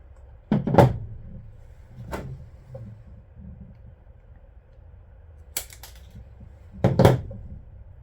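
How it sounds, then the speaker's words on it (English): Antenna wire being trimmed and stripped with hand tools: a few sharp, isolated snips and clicks spaced over several seconds, close up against a quiet background with no voices. "I'm actually going to trim a tiny little bit off of this and probably re-strip it back a little bit."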